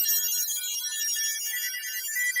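Faint high-pitched tones and steady hiss come from a homebuilt 40m Super Pixie ham radio receiver picking up a signal, a thin continuous warble with no talking over it.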